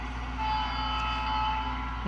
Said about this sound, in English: Okay, so we'll move our little train up here,